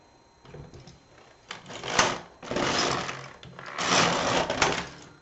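A knitting machine works two rows of a two-colour hat, its carriage making several loud, rattling mechanical sweeps with brief lulls between passes.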